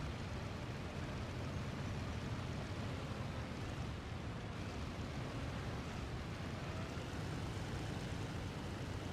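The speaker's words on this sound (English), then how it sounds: "Oh, must have been a plane." Airplane engine droning overhead as a broad, steady roar that stays at constant loudness throughout, with no talking.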